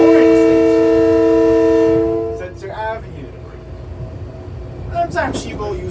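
New LIRR M9 commuter train heard from the front car cab between Long Beach and Jamaica: a loud steady horn blast for about two seconds, then running rumble with brief squeals and talk over it.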